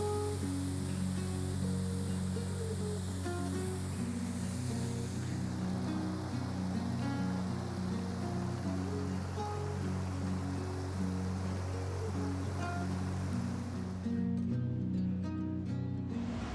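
Steady, dense rushing water of waterfalls on the Bolaven Plateau roars continuously, loud and enveloping, with no voices.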